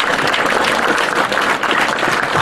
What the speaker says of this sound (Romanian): Vă rog să aplaudăm,